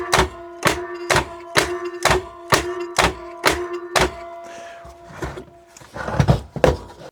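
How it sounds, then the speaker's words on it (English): A brand-new ABB AF 132 kW contactor actuates repeatedly, its coil pulling in with sharp, regular thunking clacks every half second or so, rattling loudly on a tabletop before the cycling stops and leaves scattered knocks. "It's rattling all over the table now."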